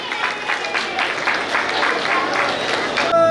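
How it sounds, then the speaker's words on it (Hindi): Steady applause at a sangeet ceremony, many hands clapping in a dense, continuous wash with a brief shift in sound just before the end. "तालियां बजती रहनी चाहिए एकदम"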